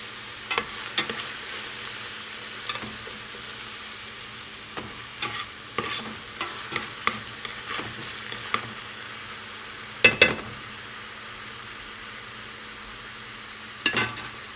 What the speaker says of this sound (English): So here we have our olive oil, fresh garlic, onions, and peppers. And they're simmering down pretty well.